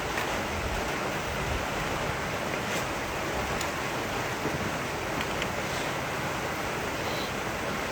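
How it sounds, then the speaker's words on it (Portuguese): A downpour of heavy rain hisses as a broad, even wash of noise that holds steady and loud for the whole stretch, with no voices. "E começou uma chuva sinistra aqui agora."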